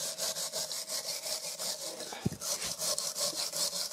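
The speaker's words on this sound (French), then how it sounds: "On prend une brosse de fer." A steel wire brush scrubs the brake disc parts of a Kawasaki ZX9R motorcycle in quick, regular back-and-forth strokes, a close rasping scratch repeating about four times a second with a brief knock partway through.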